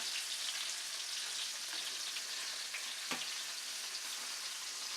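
Chicken saltimbocca, pinned with toothpicks, sizzles steadily in a frying pan, a soft continuous crackle with no talking.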